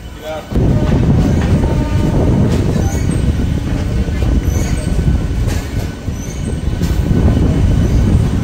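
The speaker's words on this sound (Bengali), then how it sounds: "আমাদের ট্রেন এখন কৃষ্ণনগর সিটি জংশন ছেড়ে" A local train pulls out of Krishnanagar City Junction, rolling along the tracks with a loud, continuous rumble and rattle of wheels, with occasional metallic squeals.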